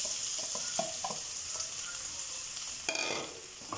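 Chicken pieces sizzle in a pan with golden brown onion and garlic, a continuous hiss broken by several clattering stirs and scrapes close by, with no speech.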